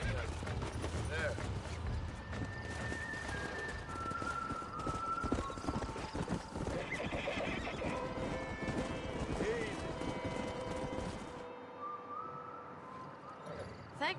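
Horses in a John Marston video game, steady clip-clop hoofbeats with a neigh under game music and voices, fading near the end.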